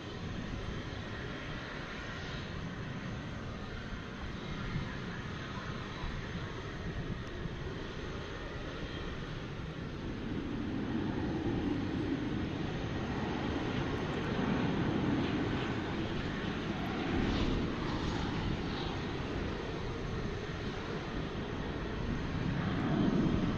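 Boeing 787 Dreamliner jet at Dallas Fort Worth airport at night, giving a steady distant roar with broadband rumble that swells slightly midway and holds, no talk over it.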